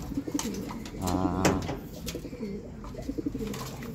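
Racing pigeons coo in a low, throaty warble during pooling and race training, one clear rolling coo standing out over softer cooing and light background rustle, with no talk.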